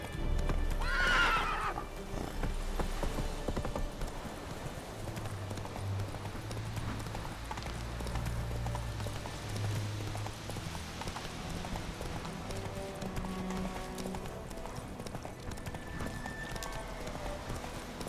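A horse in The Witcher 3: Wild Hunt neighs sharply near the start, then its hooves clip-clop in a steady, close gallop that carries through the whole clip.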